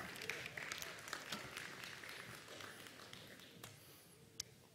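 A church congregation applauding during a sermon, quiet and distant clapping spread through the room with scattered sharper claps, gradually thinning out.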